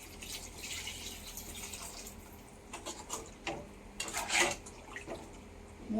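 Water poured into a pan of curry with the masala and meat: a splashing, trickling pour with some clinks and gurgles, gradually building and becoming louder toward the end, with no talking.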